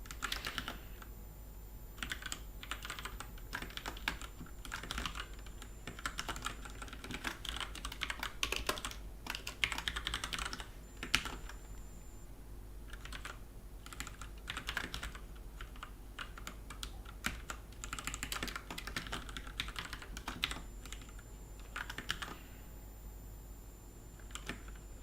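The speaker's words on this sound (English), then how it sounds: "That round keys one. That's the red cherry buttons, keys," A mechanical keyboard with round keycaps and Cherry red switches is typed on in steady, continuous bursts of soft clacking, close up over a low fan hum.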